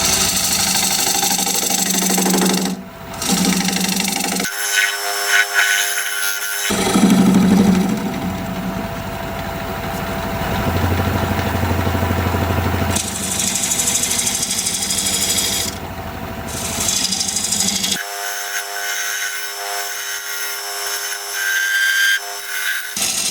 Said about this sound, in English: Now I'm going to use my recess tool,